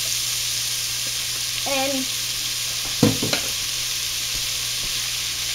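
Quartered yellow squash sautés in a pan, a faint continuous sizzle under a brief spoken word, with a few sharp knocks and scrapes of stirring midway.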